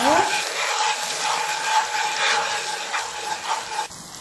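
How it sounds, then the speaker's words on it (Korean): Loud, continuous sizzle and crackle as soy sauce hits hot oil, hissing close up before easing off at the end. "기름에다 간장 넣어주시고요."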